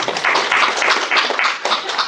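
An audience at a grand Brahma Kumaris centre event in Butwal, Nepal claps together, a dense, steady burst of many hands that swells and dips slightly, close and loud, with no talk over it.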